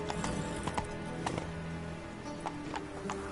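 Roach, the horse from The Witcher III, gallops across the ground with rapid, rhythmic hoofbeats, fairly close and steady, with a faint background ambience and no speech.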